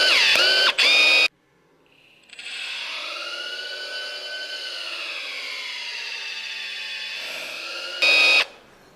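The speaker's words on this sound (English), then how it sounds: "if you pull the trigger, it's going to just keep pulling it till it's tight" Milwaukee 2661-20 electric huck bolt tool pulling a steel bolt collar tight, a steady whining motor hum lasting several seconds, framed by short loud mechanical bursts at the start and end.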